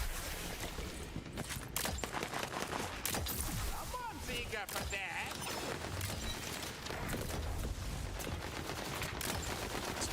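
Tommy gun fire from zombie mobsters in the video game Tiny Tina's Wonderlands, dense rapid bursts layered with other game effects and constant loud action, with a player talking over parts of it.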